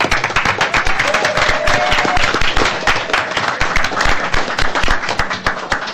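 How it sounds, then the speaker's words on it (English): A crowd at a school board meeting applauds steadily, many hands clapping densely and continuously at close range, with no break in the sound. "I think that we should give them a round of applause for Teacher Appreciation."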